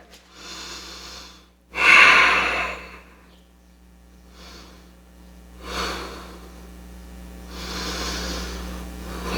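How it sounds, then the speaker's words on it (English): Slow, deep breaths during a yoga stretch, a few audible inhales and exhales spaced several seconds apart, close and fairly soft, one breath noticeably sharper and louder than the rest. "remembering to breathe."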